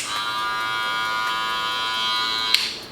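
A Stylecraft Rebel or Babyliss Lo-ProFX electric hair clipper runs close by, a steady high-pitched buzzing hum that holds evenly for several seconds, then a brief click near the end as it winds down.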